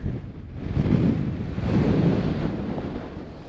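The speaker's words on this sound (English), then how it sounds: "it's really windy today" Strong wind gusting across open ground at old copper mine ruins in Michigan's Upper Peninsula, a steady broadband roar buffeting the microphone, swelling around the middle and staying loud throughout with no talking.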